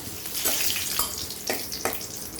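Cumin seeds and bay leaves sizzle in hot oil in a wok, a steady crackling hiss with several brief sharper spatters, close and fairly loud with no talking.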